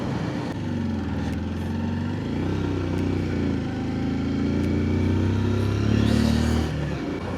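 A small motorcycle climbs the hairpin bends of the Kolli Hills road, its engine droning steadily and close with shifting pitch as it revs through the curves, wind rumble underneath.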